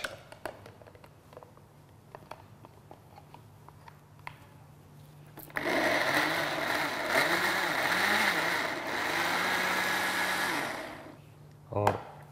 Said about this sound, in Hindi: स्ट्रॉबेरीज को कर लेते हैं क्रश